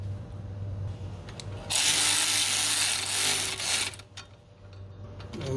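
A small power tool whirs steadily against a tension nut on the rear knuckle of a Honda Rubicon ATV, a loud, sustained buzzing with a lower mechanical hum underneath that eases off near the end.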